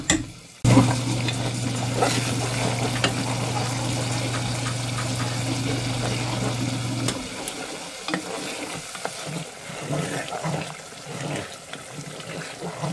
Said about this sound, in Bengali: মশলাটা এত সুন্দর করে ভাজবো